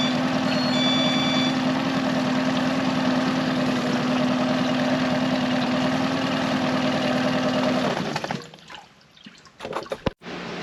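A Yamaha 15 outboard motor, just pulled from five years in a barn and serviced, runs steadily after a restart with a constant buzzing drone, then cuts out abruptly near the end, leaving a few scattered knocks.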